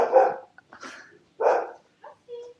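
A dog indoors at a housesit in Christchurch, New Zealand, barks at another dog outside near a park: several loud, close barks in an uneven burst, ending with a short whine.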